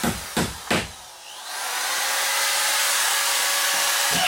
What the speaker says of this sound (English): Kyle's screwing up the board with the screw gun.